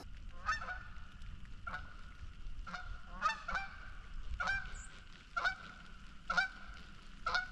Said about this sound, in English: we've heard some turkeys and geese and ducks